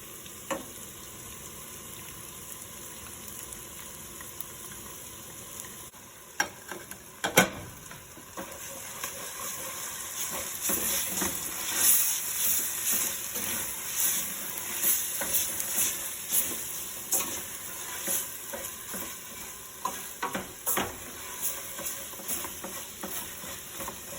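Tomato paste fries in a pan for a Ghanaian bean stew while a spoon stirs it, making a steady sizzle with repeated scraping and clinking. The sizzle grows louder and busier partway through.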